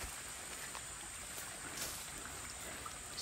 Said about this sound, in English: So we are close to the river area. I can already hear the water.